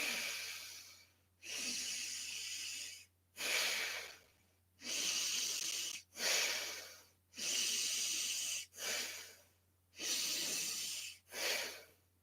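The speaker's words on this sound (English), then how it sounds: "I'm breathing in and out of the right nostril" A person breathes slowly in and out through the right nostril only, about eight long, airy breaths with short pauses between, close and clear with no talk.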